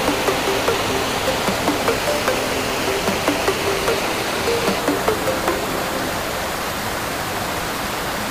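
Water flows steadily at Bhardariya Dari waterfall near Ahraura, Mirzapur, at a modest seasonal volume. It sounds as a continuous broadband rush that stays fairly loud and even throughout, and no voices are heard.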